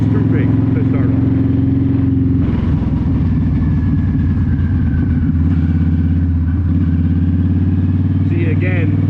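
A Yamaha V-Star 1300 motorcycle engine on a test ride, a steady loud low rumble that shifts in pitch as the throttle changes, with wind noise over it.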